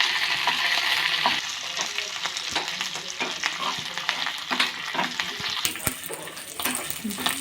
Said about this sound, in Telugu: స్టవ్ వెలిగించి ఎల్లుల్లిపాయలు వేసుకోవాలి. వేసి బాగా వేయించుకొని